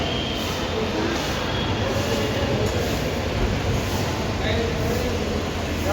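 A train at a railway station produces a continuous, loud rumbling roar with faint wheel squeal, holding steady throughout.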